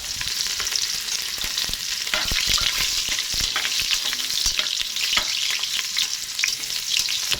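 Garlic frying in a hot pan, a loud continuous sizzle with busy crackling and stirring scrapes throughout, close and steady, no talking.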